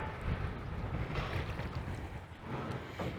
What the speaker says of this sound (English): I don't mind the wind.